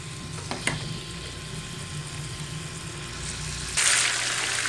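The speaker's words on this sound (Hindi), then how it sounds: "आपने चिकन फ्राई करना है" Chicken pieces seasoned only with salt frying in a pan for a Chinese-style chicken vegetable recipe, a steady close sizzle with a few brief clinks early on and a louder, hissier burst near the end.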